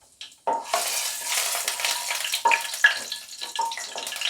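Dry red chillies and cumin seeds frying in a pan of oil while preparing a mixed vegetable and mushroom curry, a steady close sizzle with occasional stirring scrapes and brief clicks, no talk.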